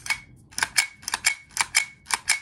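An all-metal pellet gun being cocked, heard as a series of sharp mechanical clicks and clacks in a quick irregular rhythm, close and fairly loud, with no talk.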